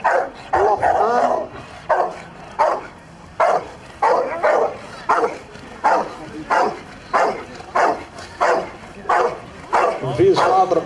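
A Malinois police dog barks loudly and repeatedly at a steady rhythm at a police open day, about a dozen deep barks close by, with a little faint Dutch talking between them.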